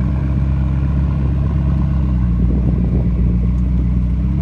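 A limited-edition McLaren 650S-based sports car with a performance exhaust idles with a deep, steady burble, loud and close, holding an even low drone without revving up.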